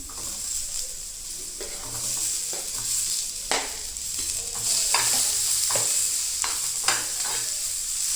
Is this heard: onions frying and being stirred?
yes